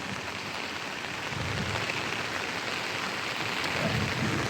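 Heavy rain in Anantapur pours down in a constant, dense hiss, with a faint low rumble underneath and no voices.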